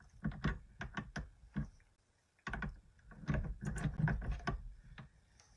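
A handle is fitted into a Stampin' Up! Cut & Emboss machine, a run of close, sharp plastic clicks and knocks in irregular bursts with a brief pause midway.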